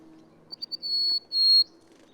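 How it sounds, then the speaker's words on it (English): Recorded mountain chickadee song: a few short high whistled notes followed by two longer, sustained clear whistles, faint over low background hum. "the whole song of mountain chickadee is actually at a higher pitch than the highest note"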